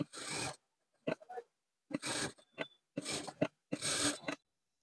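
A sewing machine stitches a fabric neckline in short bursts of rapid mechanical whirring, about five runs separated by brief silences, close and fairly quiet.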